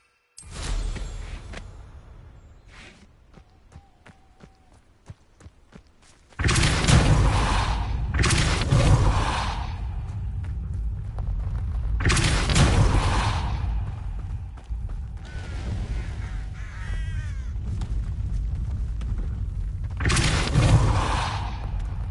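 Depulso spell cast in the Hogwarts Legacy video game, heard as a series of loud, broad whooshing blasts that repeat every few seconds after a quieter opening.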